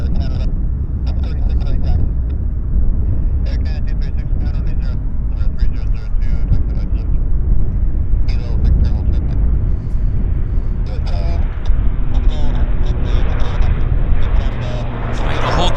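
An airliner takes off from the north runway at Vancouver Airport, its jet engines roaring loud and steady throughout, with wind buffeting the microphone and a person talking over it in bursts.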